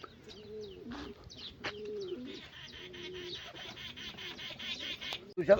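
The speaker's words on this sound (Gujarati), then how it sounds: "કબૂતરા તમે જોઈ શકો છો આ કબૂતરા" Pigeons at a house coo close by in repeated low, throaty rolling calls, several phrases in a loose rhythm mixed with brief chirps and a few background noises toward the end.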